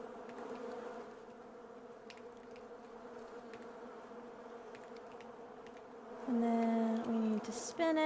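Honeybees drone in a steady swarm around a beekeeper at an island apiary, with one bee buzzing loudly past close by near the end, and no speech.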